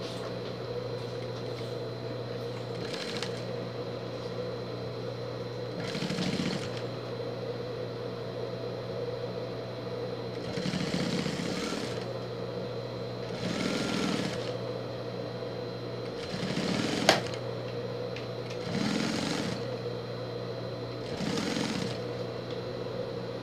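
A sewing machine stitches a cord along a fabric pet carrier sling, running in short repeated bursts of rapid mechanical whirring that stop and start at a close, steady volume over a low background hum.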